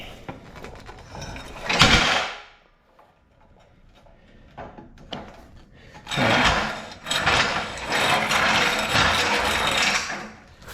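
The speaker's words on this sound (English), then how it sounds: "it's a little noisy because they are little metal ball bearings" Small metal ball-bearing wheels on a QuickJack lift rolling across a floor, a brief clattering roll at first, then a longer rattling, grinding run toward the end.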